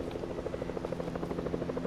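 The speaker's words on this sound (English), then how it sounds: "Helicopter." Helicopter in the Fortnite video game, a steady rapid rotor chop with a constant engine drone, heard continuously and fairly close with no talk over it.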